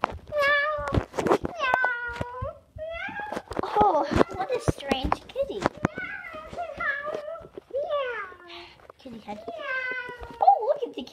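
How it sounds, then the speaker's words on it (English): Repeated loud, close cat meows, several in a row with short gaps, with people talking softly between them. "there must be a kitty under there."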